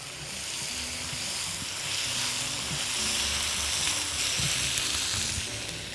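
Boiled meat stirred with freekeh in a hot pan gives a steady, close sizzle with soft scraping and stirring underneath, continuous and moderately quiet.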